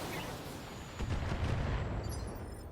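LRM missile salvo firing in the BattleTech video game, a loud rumbling whoosh of launches and impacts that swells in the middle of the clip and then fades, with no voices.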